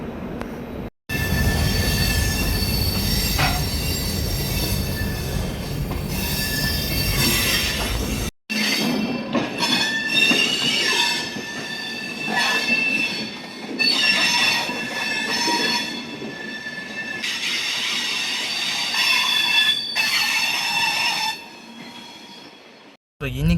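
A passenger train on the Rameswaram–Mangalore route in India rolls along with loud rumbling wheels and screeching metal-on-rail squeals, interrupted by brief dropouts, the noise rising and falling.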